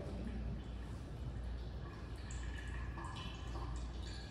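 Water pours steadily through a drainage chamber in an aquarium demonstration, a dense, constant rushing with faint dripping and gurgles, fairly soft and uninterrupted.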